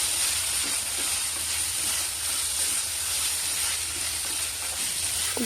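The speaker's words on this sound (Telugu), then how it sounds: "ఇప్పుడు ఇందులో కాలీఫ్లవర్ ముక్కల్ని వేసుకోవాలి బాగా కలుపుకోండి" Cauliflower pieces fry in a pan for cauliflower curry, a steady broadband sizzle running continuously at close range with faint stirring scrapes, no voices.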